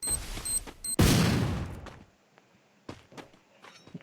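A grenade goes off in Free Fire with one loud booming blast that fades over about a second. A few scattered, fainter shots or thuds follow.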